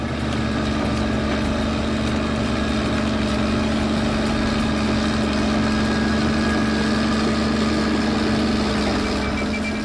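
Bulldozer diesel engine idling at a steady low rumble with a constant droning hum, close and unchanging throughout.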